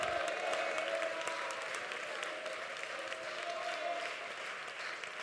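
A church congregation at a prayer centre claps in steady, continuous applause, with faint voices blended underneath. The sound is dense and even from start to finish.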